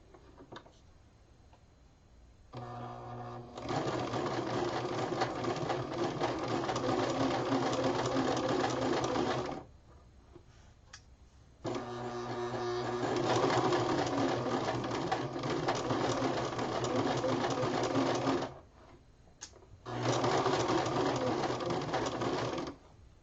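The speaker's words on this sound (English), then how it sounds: "now I'm going to begin sewing, not with a seam allowance, but along that line that I marked on this side of the dart" A sewing machine stitches a dart along a marked line in fabric, running in three long steady bursts of rapid mechanical whirring and ticking, close and loud, separated by short pauses.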